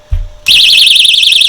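Ultralight rechargeable hiking flashlight's alarm blaring at close range, a piercing high-pitched siren wavering rapidly up and down after a brief low thump.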